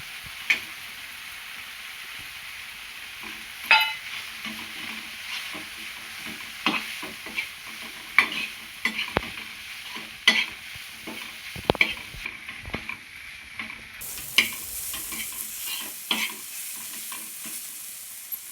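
Tomatoes fry with spices in a pan as a spoon stirs, giving a continuous close sizzle broken by irregular scraping clinks and knocks, with no voices.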